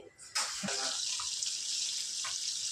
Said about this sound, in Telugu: one glass water extra add చేసుకోవాలి